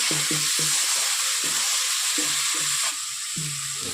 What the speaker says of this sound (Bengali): আমি সবজিগুলোকে এইভাবে নেড়ে নিচ্ছি।